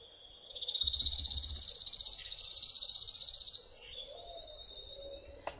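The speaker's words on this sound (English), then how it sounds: "So that's the chipping sparrow." A chipping sparrow sings a single dry, buzzy, rattling trill, fast and insect-like, lasting about three seconds. It is loud and close, then fades into faint, thinner calls.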